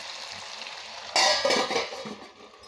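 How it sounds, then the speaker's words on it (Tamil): Chicken pieces fry in hot oil in a pan with a loud, close, steady sizzle that jumps up suddenly partway through and then eases slightly. "இப்போ இது நல்லா ஃப்ரை ஆகிடுச்சுங்க"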